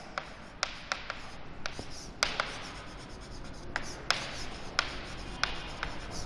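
Pen or chalk writing on a board in a physics classroom, a quiet continuous scratching broken by sharp taps as strokes begin, with no voices.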